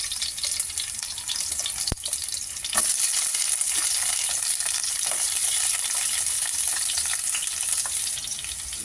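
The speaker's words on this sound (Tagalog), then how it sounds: "Dapat pala ipurinay ko ang ating carrots at patatas." Carrots and potatoes fry for beef caldereta in a pan, giving a loud, continuous close sizzle with a couple of sharp utensil clicks early on, and no voices.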